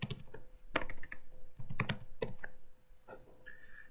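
Close, crisp keystrokes on a computer keyboard, entered into a geoprocessing program, come in quick bursts with short pauses between them in a quiet room.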